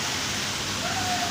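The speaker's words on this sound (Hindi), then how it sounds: "ये खंभे के ऊपर बारिश आ रही है" Steady rain falls in a city street, a continuous broadband hiss of drops on surfaces, even and moderately loud throughout.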